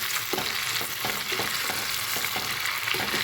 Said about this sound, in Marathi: अशा प्रकारे हे असं उकळू द्यायचं, जेणेकरून सगळे घटक त्यात उतरले जातील ऑइलमध्ये